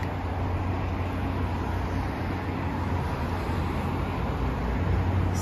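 Road traffic on Lakeshore Boulevard in Toronto below a bridge makes a continuous broadband roar of passing vehicles, steady and moderately distant, with no speech.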